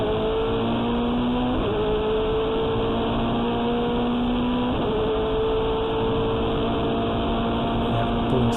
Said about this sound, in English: Pulling significantly higher speeds than previous year, topping out there at 266 kilometers per hour and going absolutely flat through turn 1.